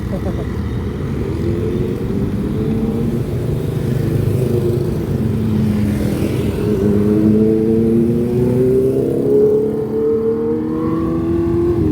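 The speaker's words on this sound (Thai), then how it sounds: "เสียงรถเป็นยาว" Continuous road traffic rumbles nearby in Vientiane, Laos, engines rising and fading as cars and motorbikes pass, with a voice faintly present underneath.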